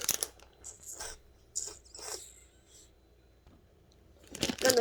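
A bag of Haribo Happy Cola candies torn open, with several crinkly plastic rips and crackles close by, brief pauses between them, then a louder rustle at the end.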